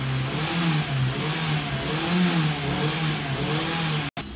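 Hyundai i10 petrol engine revving steadily in neutral after a fuel pump motor replacement, a close, continuous mid-pitched hum that rises and holds smoothly without misfiring, ending with a brief cut.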